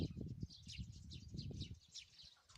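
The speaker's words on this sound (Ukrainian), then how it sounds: "Ось горобці на ній." Sparrows on a plant in a vegetable garden chirp in quick, faint high twitters, layered over low rustling and handling noise close by.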